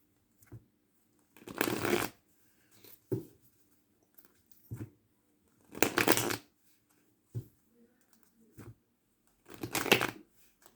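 Tarot cards being shuffled in three riffling bursts, with softer taps and handling sounds between them, close up and quiet.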